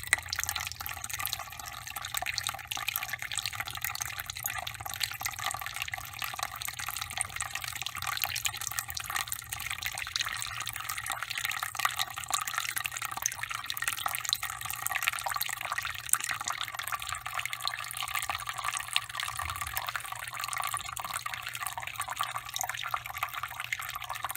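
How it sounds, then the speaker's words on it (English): Steady trickle of water dripping during a Darcy flow lab experiment, a continuous even splashing and hiss of liquid with no pauses, no one speaking. "That's a steady drip."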